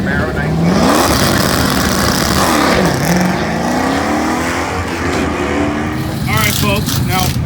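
Orange 1989 third-generation Camaro drag car at Drag Week accelerating hard, its engine note climbing in repeated rising sweeps over loud continuous track noise, with a commentator's voice running underneath throughout.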